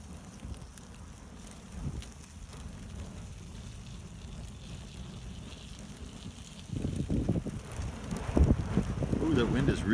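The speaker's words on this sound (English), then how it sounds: "that wind is really kicking up" Gusty outdoor wind roars and buffets around a burning country burn barrel, building louder toward the end with rumbling microphone buffeting.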